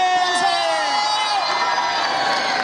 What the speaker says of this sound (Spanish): aplauso y grito para Cotwe